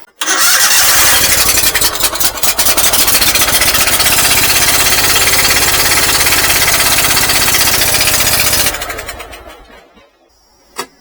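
An engine is started off a GOOLOO GTX280 jump boost pack, cranking briefly and then running loud and steady close by for about eight seconds before it is shut off and winds down.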